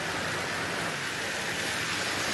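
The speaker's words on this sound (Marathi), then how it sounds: "कोल्हापुरात परतीच्या पावसानं सलग तिसऱ्या दिवशी हजेरी लावली" Steady rain pours in Kolhapur during a late-season downpour, a dense unbroken hiss of drops on surfaces, loud and constant throughout.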